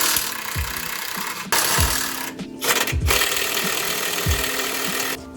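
A ratchet wrench works a 13 mm bolt on a Polaris RZR motor mount, giving loud, close, repeated mechanical ratcheting bursts with brief pauses between strokes.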